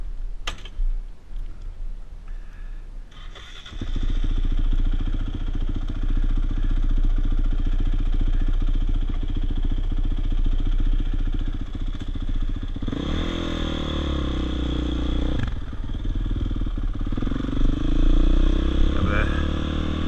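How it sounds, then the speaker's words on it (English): A Honda CRF 450X supermoto's engine starts after a few seconds of clatter, then runs steadily nearby with revving swells later on, fairly loud throughout. "can go out riding on my 450X SuperMoto"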